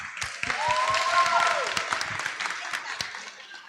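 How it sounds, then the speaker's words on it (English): Audience applause at a senior speech fest, a steady wash of clapping for the speakers that holds through the clip, with a brief tonal whine and some voice-like murmur mixed in. "Let's give a round of applause for all the speakers who have gone so far."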